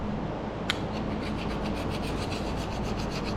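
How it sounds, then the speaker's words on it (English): A gasket scraper rasps along the old gasket line on a 1980 Pontiac Trans Am 301 engine, a steady close scraping with one sharp click near the start and no talking. "We're just gonna follow exactly where that old gasket was all the way around, and again try to scrape everything"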